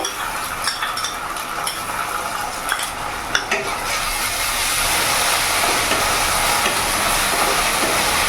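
Onions frying in oil with ginger-garlic-chili paste being added, for a pangas fish curry; a steady broadband sizzle swells louder and denser midway as the paste hits the pan, with light scraping stirs early on.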